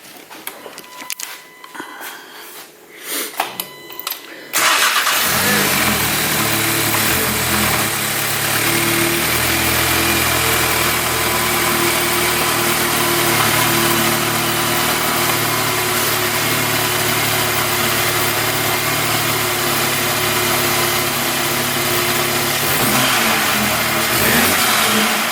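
A VW MK7.5 GTI fitted with a turbo muffler delete and upgraded turbo inlet starts up abruptly and runs loud and close, holding a steady drone with revving swells and turbo flutter, no talking.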